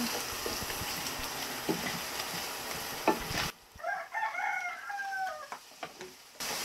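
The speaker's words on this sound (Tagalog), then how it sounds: "Halu-haluin na. Halu-haluin." Food stirred in a pan, with scraping and sizzling at close range, then a quieter stretch where a rooster crows in the background.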